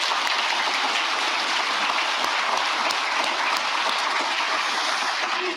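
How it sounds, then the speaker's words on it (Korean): Audience applause at a workshop for senior government officials, a dense, steady clapping from a large crowd that fills the room evenly and continues without a break. "우리 동료들을 위해서 박수 한번 부탁드립니다."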